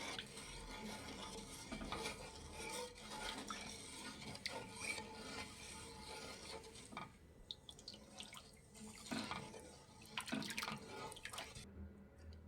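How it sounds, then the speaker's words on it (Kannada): A spoon stirs and scrapes Bombay halwa mixture with cornflour in a pan. The clinks and scrapes against metal are continuous and close, with wet sloshing and no voices. "ಹಾಕಿ ಚೆನ್ನಾಗಿ ಕೈ ಬಿಡದೇನೆ ತಿರುಗಿಸ್ಬೇಕು ಫ್ರೆಂಡ್ಸ್"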